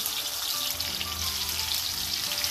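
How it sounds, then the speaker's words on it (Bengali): Onion and garlic paste with salt frying in warm oil for a pangas fish and potato curry, a dense, even sizzle heard close with no talking. "তেলটা হালকা গরম হয়ে আসলে আবারও আমি দিয়ে দিচ্ছি পেঁয়াজ আর রসুন বাটা একসাথে"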